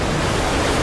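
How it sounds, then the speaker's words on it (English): Ocean waves crash against Doolin Pier in a short burst of dense, roaring surf that stays loud and unbroken throughout. "Waves hit Doolin Pier at roughly 10 to 20 miles per hour."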